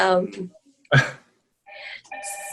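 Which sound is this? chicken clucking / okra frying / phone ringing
phone ringing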